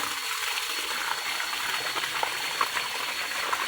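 Water gushes under strong pressure from a hose at a forest water source, a steady, forceful hissing rush, close and constant, with small splashy surges throughout.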